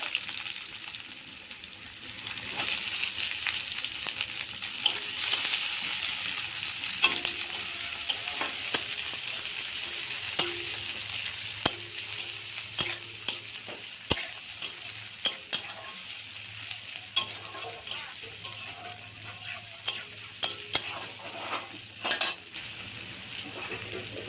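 Chopped onions fry with bay leaves and whole cumin in a pan for a lentil dish, a steady close sizzle broken by frequent scraping and clinking stirs of a spoon against the pan.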